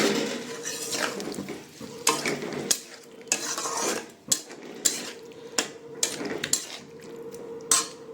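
Fish masala being stirred and fried in a pan, with a steady sizzle under repeated scraping and knocking of a utensil against the pan, sharp clinks standing out near the end.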